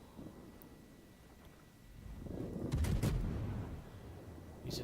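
A battleship's salvo in a naval video game lands as a deep, rumbling boom that swells over a couple of seconds amid windy background noise, with a sharp crack near the end.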